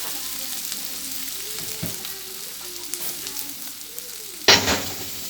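Pan of onions frying in oil for a prawn and pointed gourd korma, a steady close sizzle with soft stirring scrapes and a sharp burst of spatter near the end.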